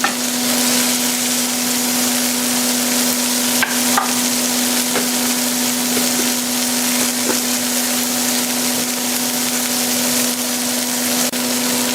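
Garlic frying in a pan with pork chops, a dense continuous sizzle with a steady hum underneath, close and loud throughout with a few faint clicks of stirring.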